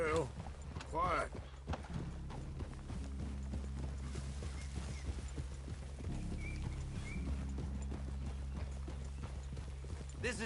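Horses in the Red Dead Redemption 2 video game walk with a steady, close clip-clop of hooves, a faint whinny early on, and quiet game dialogue mixed in.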